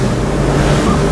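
Ocean Alexander Divergence 45 outboard boat hull throwing up spray at speed, a loud, dense rush of water and wind noise filling the whole moment without letup.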